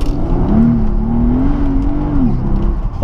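A Mercedes SL65 Black Series with 738 horsepower and rear-wheel drive accelerating hard, its engine note close and loud as it climbs in one sustained, rising pull.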